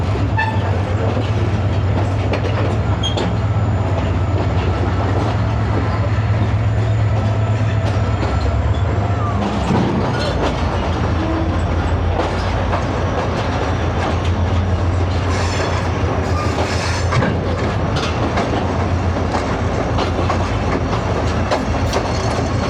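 The Pakistan Express rolls past on the rails, a loud, continuous rumble of wheels and carriages with rhythmic clicking, a brief high wheel squeal and a faint horn.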